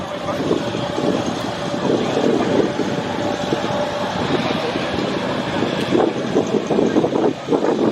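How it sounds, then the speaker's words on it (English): A Beechcraft Texan II trainer with a Pratt & Whitney Canada PT6 turboprop engine, flying at an air show: a steady, loud broadband engine roar with wind-like rush throughout, with commentary voices over it. "powered by a Pratt & Whitney Canada PT6 engine"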